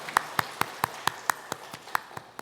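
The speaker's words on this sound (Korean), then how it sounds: "하나님께 영광의 박수 올려드립니다." A church congregation claps in a brisk, even rhythm, about a dozen sharp claps roughly a quarter second apart, clear and moderately loud.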